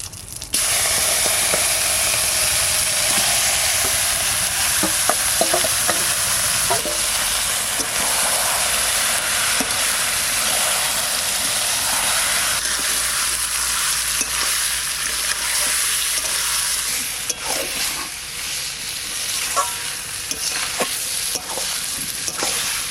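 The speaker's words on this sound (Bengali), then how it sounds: "সর্ষের তেল দিয়ে দিচ্ছি শুকনো লঙ্কা তেজপাতা জিরে মাংসটা দিয়ে দেবো" Chicken pieces fry in hot mustard oil with dried red chili, bay leaf and cumin, giving a loud, steady sizzle and hiss with occasional stirring scrapes throughout, no voices.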